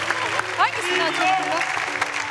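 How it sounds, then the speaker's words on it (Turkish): A studio audience on the Turkish Deal or No Deal game show, Var Mısınız Yok Musunuz, claps in sustained applause at moderate volume while people talk over it. "Yavrum alkışlara alışman lazım."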